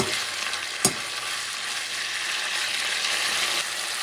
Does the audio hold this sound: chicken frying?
yes